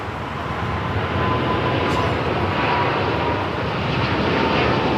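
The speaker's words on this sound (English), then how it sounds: "we got the British Airways 777-300ER heading back to London Heathrow" A British Airways Boeing 777-300ER takes off at Los Angeles airport, its jet engines giving a broad, loud, continuous roar that swells slightly as the aircraft rolls down the runway.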